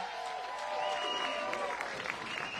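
A crowd at center court of the APP Sacramento Open pickleball tournament applauds the men's singles gold medalist, a dense patter of clapping with some cheering, with commentators talking over it.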